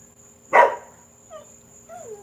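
A dog gives one loud sharp bark nearby, followed by a couple of softer whines or yips, in an otherwise quiet indoor setting with a faint steady tone.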